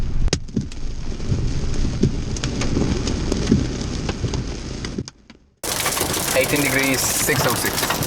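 Hail of about two centimetres falls hard during a nighttime supercell storm in Croatia, a dense, loud clatter of impacts. It drops out briefly and then resumes as a sharper, brighter pelting close by.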